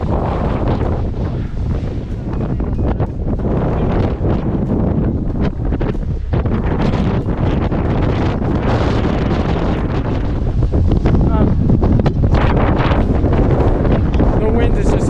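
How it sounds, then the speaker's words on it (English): Brutal, cold wind buffeting the microphone on the exposed summit of North Moat Mountain in New Hampshire, loud continuous roaring gusts with no letup, while a person speaks through it. "The wind is just absolutely brutal"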